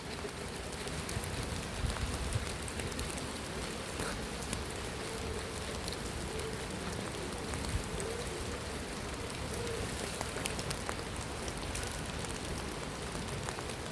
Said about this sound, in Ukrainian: Ну, ось така весна з теплим дождем, дощем.